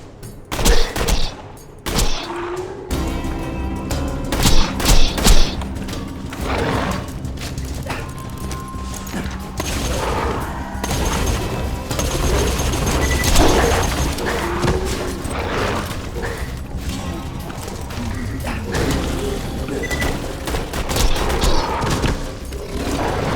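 Sustained gunfire in Borderlands 2, dense loud bursts of rapid shots and booms with mechanical clatter running throughout, nearby and continuous, no speech over it.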